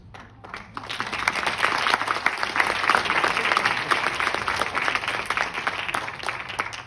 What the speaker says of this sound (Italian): Questo applauso per il prossimo Presidente della Repubblica